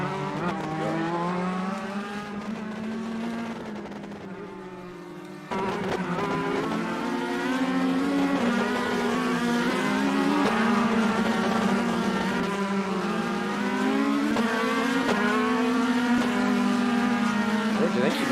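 Race cars at a pit entrance, a continuous engine drone with shifting pitch as cars pass close by, steady and loud throughout, with no gaps.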